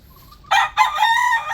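A rooster crows once, a loud, close, strained call that breaks briefly and then carries on in a long, wavering note.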